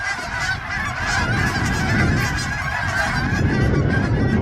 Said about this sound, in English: Look at all those geese. I can hear them all from in the shop.